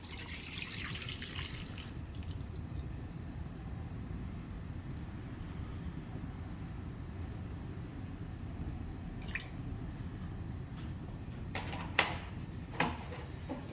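Full cream whole milk pours into a cooking pot with soft liquid gurgles and drips at low volume. A few sharper clinks near the end rise over the quiet pour, with no talking.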